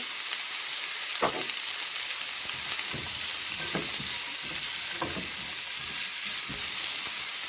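Quesadilla filling of vegetables sautés in oil in a pan, giving a steady close-up sizzle with a few soft spatula scrapes and taps scattered through it.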